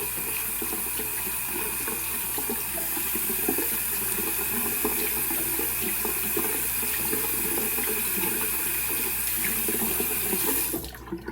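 A tap runs steadily and loudly while a badger-hair shaving brush with a new knot is rinsed, the rushing flow continuing nearly unbroken until it cuts off at the end.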